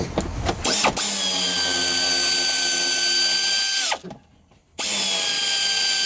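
Power tool running on bolts of a Mercedes W115 parts car, a loud steady whine with a sharp burst at the start, cutting out briefly near the end before resuming.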